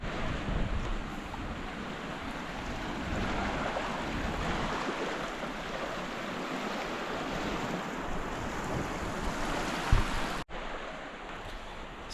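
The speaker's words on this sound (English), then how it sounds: "the water was flowing pretty quick underneath that bridge over there" Fast floodwater rushes beneath a bridge beside a flooding river, a broad, steady roar mixed with wind buffeting the microphone, continuous and fairly close, with a brief thump near the end.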